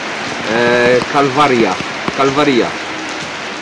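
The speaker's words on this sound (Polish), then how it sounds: "Złapał nas deszcz" Steady rain pours down during an outdoor lunch stop in a small town in Lithuania, a constant broadband hiss filling the background while people talk over it in the foreground.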